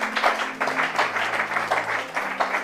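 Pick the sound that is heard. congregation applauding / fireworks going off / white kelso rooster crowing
congregation applauding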